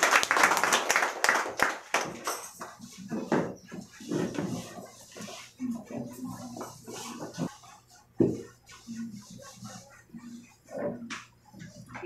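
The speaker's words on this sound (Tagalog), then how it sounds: "Mga palakpak kita sa Diyos." A church congregation at a Sunday service claps for God, the applause loud at the start and fading into scattered claps, with talk and other noises over the rest.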